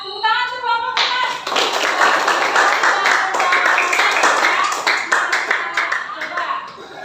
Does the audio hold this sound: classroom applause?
yes